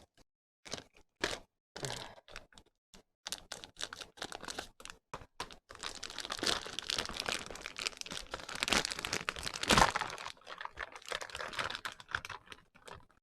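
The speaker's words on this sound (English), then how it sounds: "I'm going to go ahead and take that plastic off." Crinkly plastic wrapping being pulled and torn off a diamond art kit, with sharp crackles and rustles in bursts, growing busier and louder toward the middle.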